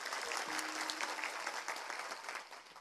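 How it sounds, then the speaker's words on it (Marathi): An audience at a devotional kirtan festival bursts into dense, lively applause, many hands clapping together close by before the sound begins to taper off. "वाजव एकदा टाळी."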